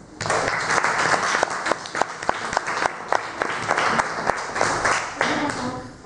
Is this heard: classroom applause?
yes